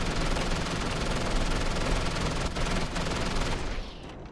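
Rapid, dense gunfire from the video game Starfield roars continuously during a spaceport attack, a loud sustained barrage that cuts off abruptly near the end.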